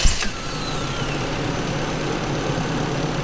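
A Nissan 240SX engine runs after a fuel filter replacement, a steady close idle rumble with a brief burst at the start and no talk.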